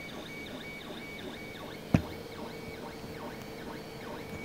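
A Creality CR-10 S5 3D printer with a direct drive extruder runs steadily at close range. Its stepper motors whine and sweep up and down in repeated patterns, and one sharp click lands partway through.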